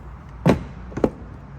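Saddlebag latches on a 2020 Harley-Davidson Street Glide Special give two quick soft clicks about half a second apart, close by against quiet background.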